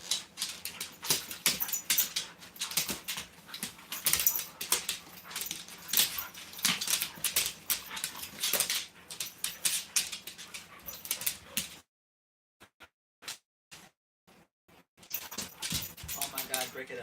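Dogs whimper and snuffle as they play-hug, with close, busy scuffling, panting and whining bursts, followed by a near-silent stretch broken by a few brief sounds before the activity resumes. People talk over them.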